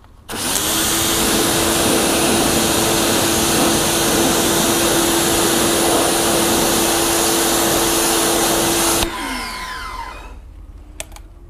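A strong water spray rinses cleaner off a car wheel with a loud, steady hiss lasting about nine seconds before it cuts off, leaving faint dripping and handling noises, with no speech.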